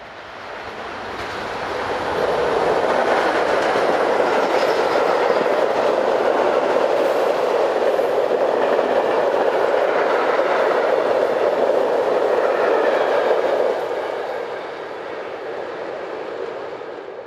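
A Swiss Re 6/6 Class 620 electric locomotive hauls a train past. A loud, steady rumble of rolling wheels builds up quickly, holds for about ten seconds and then drops back to a quieter roar.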